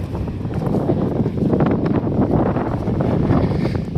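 Strong wind blowing steadily along a railway track, roaring and buffeting close up against the microphone with no other clear sounds.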